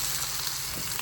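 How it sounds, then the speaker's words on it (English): Chunks of pork sear in a pan for carnitas, a continuous close frying hiss with fine popping throughout and no voices. "I brown all the pork."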